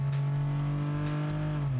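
A small, somewhat sluggish engine in an Elio prototype car pulls and accelerates, producing a loud, close, sustained hum with a slowly shifting pitch and no talk over it.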